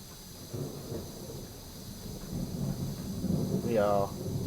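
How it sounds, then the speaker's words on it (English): Crashing thunder rolls through a thunderstorm in the game PowerWash Simulator, a steady rumbling wash that swells toward the end, with a brief rising electronic tone near the close. "We are having a mental thunderstorm. Crashing thunder."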